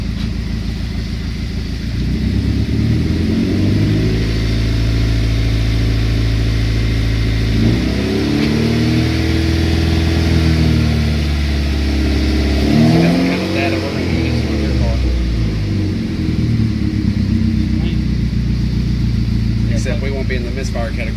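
A 2017 Camaro 2.0 turbo four-cylinder engine with a hard misfire on cylinder one runs loud and close, a rough uneven drone with several rising and falling revs.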